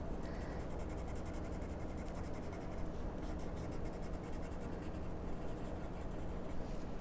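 Pencil strokes on paper while drawing hair on a handmade greeting card, a soft continuous scratching at close range, steady and faint with no talk.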